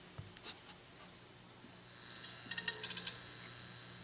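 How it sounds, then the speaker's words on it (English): A theatre-style marquee lights up on the iMovie for iPad 2 opening screen: a soft rustle followed by a quick run of bright, tinkling pings, faint and close, with no voices. "you get a marquee display complete with the sound effects of the marquee lighting up"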